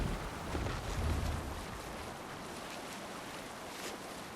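A sailing ship moves over open sea in Assassin's Creed Valhalla, with steady washing waves and wind rushing past the hull, a fuller swell early on before settling into constant surf noise.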